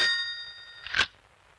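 A telephone rings with a bright, ringing bell tone that fades out, then a second sharp, louder burst of ringing near the end, alone with no voices.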